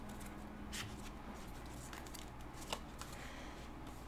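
Tarot cards being shuffled in soft, papery bursts, close but quiet, over a low steady room hum with no talking.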